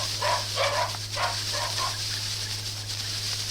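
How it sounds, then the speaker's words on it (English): Several dogs outside in a garden give a handful of short yelps and barks in quick succession, distant and moderate in volume over a steady low hum, with no one speaking. "It was answered by the yelping of his 3 dogs from outside in the garden."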